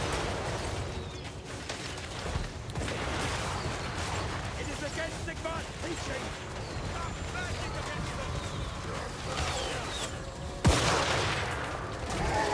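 Cannon and artillery fire in the Total War: Warhammer 3 video game as a continuous battle barrage, with a sharp loud blast near the end, while a player talks over it.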